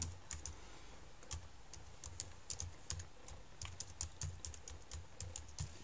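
Keys on a computer keyboard are typed in quick, irregular bursts of soft clicks, close and quiet, with no talking.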